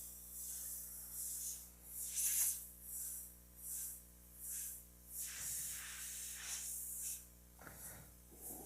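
Airbrush spraying paint on a Jack Skellington piece, soft repeated bursts of hiss in short pulses over a low steady compressor hum, faint and close.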